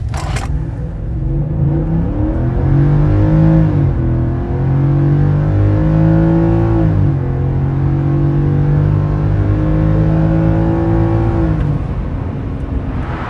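A 2025 Ford F-150 pickup with the 5.0L Coyote V8, 10-speed transmission and 3.73 rear gears, accelerating hard: a loud, steady engine roar rising in pitch through several upshifts, each marked by a brief drop before climbing again.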